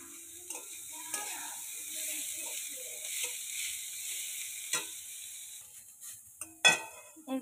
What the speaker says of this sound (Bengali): এগুলো সব ভাজা হয়ে গেছে।